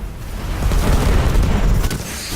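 Deep, rumbling grenade blast in the video game Destiny, a loud low boom that swells and lingers across the short moment with no talk.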